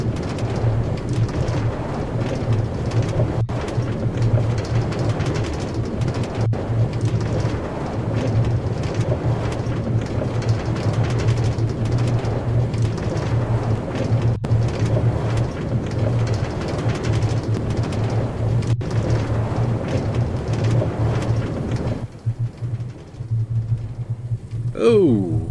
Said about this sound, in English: Can't really see it when it's raining.